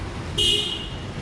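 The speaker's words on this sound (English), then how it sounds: "Got a car behind me." A single short car horn toot from a vehicle on a narrow street in Macau, heard over street noise and the background rumble of traffic.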